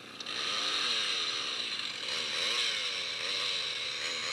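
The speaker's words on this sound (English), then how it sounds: "Chainsaw." Chainsaw sound effect played through an iPhone app, a buzzing, revving two-stroke engine whine that rises and falls a couple of times over a few seconds, heard alone and fairly loud.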